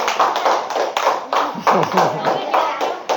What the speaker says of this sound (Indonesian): beri dulu tepuk tangan untuk kelompok 3